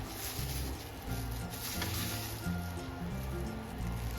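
Chicken breast sears in a skillet over medium heat, giving a steady, soft sizzle that holds an even level throughout without any talk.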